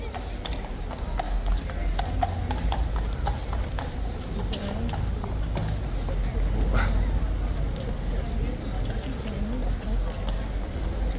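Police horse hooves clopping on pavement amid a protest crowd outside the King's Guard post, the steady irregular knocks partly buried under a dense, continuous murmur of voices and street noise.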